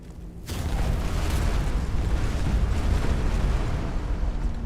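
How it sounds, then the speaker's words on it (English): A fire spell cast in the video game Skyrim erupts with a sudden whoosh and then a sustained loud roaring rumble of flames that carries on for several seconds before easing slightly. "I guess to test out my new fire spell"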